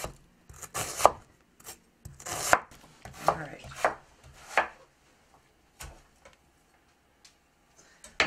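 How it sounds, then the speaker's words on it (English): A knife slices onions into very thin slices on a cutting board, with sharp, irregular chopping taps in short bursts, close and clear, separated by quiet pauses and no talking. "I cut them in half, and I'm just slicing them into very thin slices."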